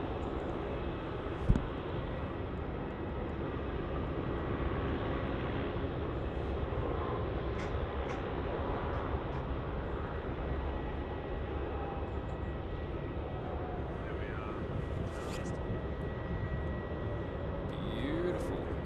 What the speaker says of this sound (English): There we are, just about to touch down on runway 34.